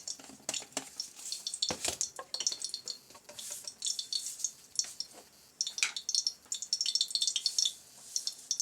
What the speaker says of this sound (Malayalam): എണ്ണ നന്നായിട്ട് ചൂടായതിന് ശേഷം ഞാൻ അല്പം കടുകിട്ട് കൊടുക്കുവാണ്.